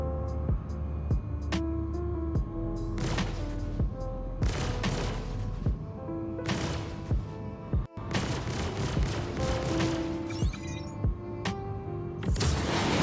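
Sniper rifle gunfire in the Star Citizen video game, inside caves: a steady run of loud, sharp shots with echoing booms, spaced at irregular intervals, one especially heavy blast near the middle.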